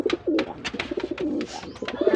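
Pigeons coo close by in soft, throaty, repeated rolling calls that overlap continuously through the whole stretch, with no talking over them.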